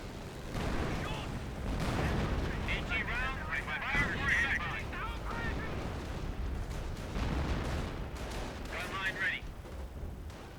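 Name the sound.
artillery barrage in the video game Company of Heroes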